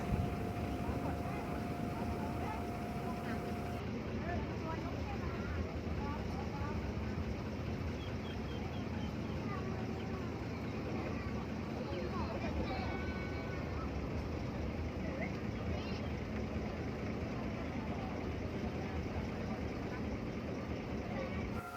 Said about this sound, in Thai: อันนี้ก็เป็นบรรยากาศระหว่างนั่งเรือข้ามฟากนะคะ